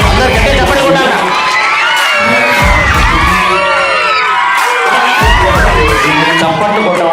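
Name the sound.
school children shouting and cheering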